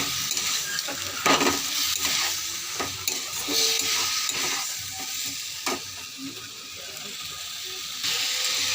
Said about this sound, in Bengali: আঁচটা কমিয়ে আমি সবজিটা কষাচ্ছি।